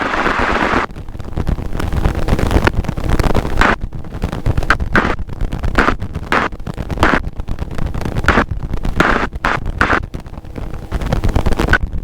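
Helicopter cruising and climbing at about 80 knots near Angels Gate over LA Harbor, a steady loud rotor and engine roar with wind buffeting across the microphone, continuous and close throughout.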